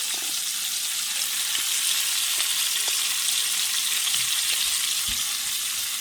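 Two chopped onions sizzle and fry in a pot as the start of charro beans, a steady bright crackle with occasional stirring knocks and scrapes, close and continuous without talk.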